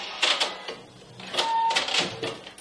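A sewing machine stitching backwards on jersey fabric, heard as a few short, close mechanical whirring bursts in quick succession.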